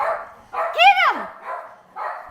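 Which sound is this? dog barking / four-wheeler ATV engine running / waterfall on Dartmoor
dog barking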